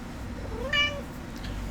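A pet cat named Moon Pie lets out one short, clear meow up close, rising and then falling, with quiet room tone around it.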